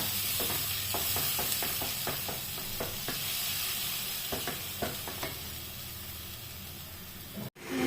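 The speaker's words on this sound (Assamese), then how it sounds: "কম জুইত অকণমান ভাজিব লাগিব" Garlic paste with salt and spices frying on low heat for a dahi chicken dish, giving a steady close sizzle broken by repeated scraping stirs and ending with a brief knock.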